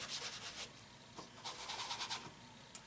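Ink is rubbed hard around the edges of a paper card for a Valentine's card, a close, dry scrubbing and scraping in short repeated strokes with brief pauses, with no voice.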